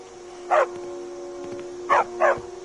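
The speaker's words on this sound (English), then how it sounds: "Good dog." Short dog barks from a video game, three sharp yelps, one alone and then a close pair, cutting over a steady droning game ambience with no talking.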